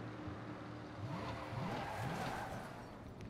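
A car in the Saints Row video game drifts and brakes hard, its tires squealing in several rising chirps over a constant engine roar, loud and close.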